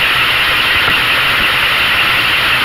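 A Ford Ranchero truck engine idles steadily after a carburetor adjustment, giving a continuous close-up drone with even vibration and no speech over it.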